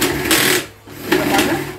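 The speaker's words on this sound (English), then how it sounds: "There are different types of hole saws that you can use." A hole saw bores through plastic while building a small aquaponics solids filter: two loud, close whining bursts of drilling separated by a brief lull.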